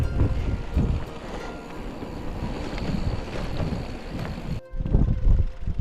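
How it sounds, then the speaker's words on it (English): Strong high wind roars and buffets the microphone steadily outdoors in hilly country near a small lake, cutting out for an instant near the end before gusting back in. "Crazy high winds blowing us all over the place."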